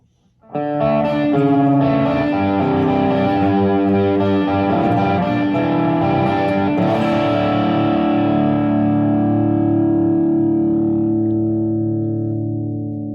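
A driven electric guitar through a Plimsoul overdrive pedal strums and picks several notes with crunchy overdrive, then sustains a fat distorted chord that fades gradually, played alone and close.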